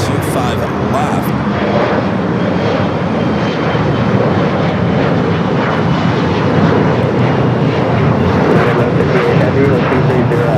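A Boeing 787-8 Dreamliner arriving from Mexico City touches down on runway 25 left at LAX, its steady broadband jet roar loud and continuous throughout, with voices talking over it.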